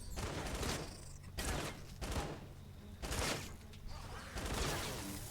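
Hacksaw gun in the video game Fortnite firing short bursts of rapid shots, several loud clustered volleys separated by brief gaps.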